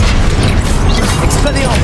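Expelliarmus spell cast in the video game Hogwarts Legacy, a loud, dense burst of magical effect noise with a deep rumbling boom filling the whole moment, with a voice partly mixed in.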